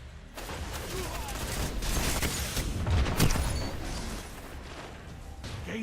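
Red Death exotic pulse rifle firing in Destiny PvP, dense bursts of gunfire with booming impacts over a continuous backdrop of game noise; no talk.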